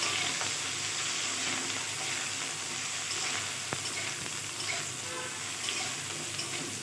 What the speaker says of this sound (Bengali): একটা কড়াইতে আমি সর্ষের তেল দিয়ে দিয়েছি তেলটা গরম হয়ে গিয়েছে এখন আমি কেটে রাখা বেগুনটা দিয়ে দিলাম বেগুনটা আগে ভেজে নামিয়ে নিই